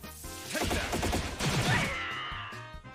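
A burst of rapid gunshots from the quick bullets craft in the Trails in the Sky video game, a fast clattering volley that builds and then fades into ringing game effects.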